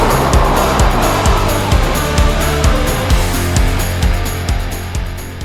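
A 2025 Dongfeng Forthing T5 EVO's Mitsubishi-built 1.5-litre turbo petrol four-cylinder runs up close, a loud, rumbling engine with a steady rhythmic pulsing beat throughout.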